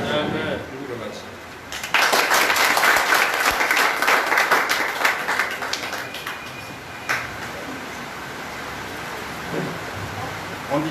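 Sustained applause from an audience at a charity donation ceremony at a hospital in Foumban, Cameroon, rising abruptly and continuing as dense, steady clapping with some faint voices mixed in.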